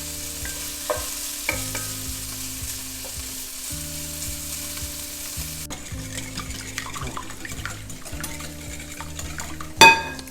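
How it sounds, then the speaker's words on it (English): Pancetta sizzles in a pan with a steady frying hiss, broken by occasional stirring and scraping, and a sharp clank of utensil on pan near the end. "Don't forget to keep an eye on your pancetta. You don't want it to burn."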